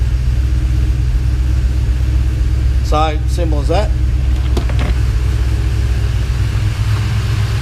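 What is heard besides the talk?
Ford Fairmont XC engine idling while warming up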